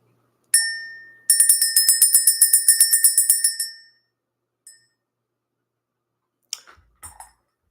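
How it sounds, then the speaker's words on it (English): A small metal spiritual bell rings clearly, first one struck ding that rings out, then a fast run of about fifteen bright repeated chimes that fade, followed by a few faint clinks, in a quiet room. "Let's ring the bell."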